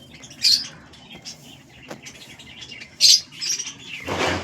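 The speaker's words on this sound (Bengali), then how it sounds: "তো আমার বাড়ির পায়রাগুলো চলে এসছে খেতে।" Home pigeons arriving to feed give sharp chirps and squawks with bursts of wing flapping, close and intermittent, the flapping rising at the end; no talking.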